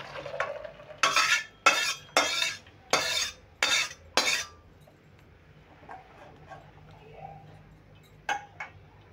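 Cooked sabudana tipped out of a kadai into a perforated bowl while making sabudana pulao, giving six loud, rattling scrapes and clatters of metal in quick succession, then quieter knocks and a final pair of clinks.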